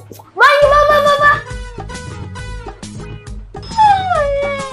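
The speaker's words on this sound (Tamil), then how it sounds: "எவ்வளவு அன்பான நாய்" A dog whimpers and yips in high, wavering whines, with short barks and howl-like cries over a few seconds, close by, while people talk nearby.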